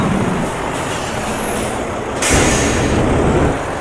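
A truck's air brake in American Truck Simulator, using a modded air sound, releases with a sharp pneumatic hiss over a steady engine rumble, lasting about a second before the idle resumes.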